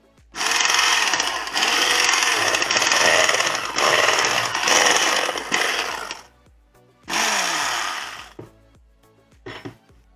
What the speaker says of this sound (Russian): Я вот взял один венчик, снял и одним венчиком еще перемешаю.